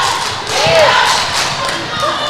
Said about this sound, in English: Again, see, the crowd is getting into it.